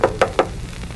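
Three sharp knocks on a laboratory door, evenly spaced about a fifth of a second apart, close and distinct, followed by quiet, in an old horror radio drama of Dr. Jekyll and Mr. Hyde.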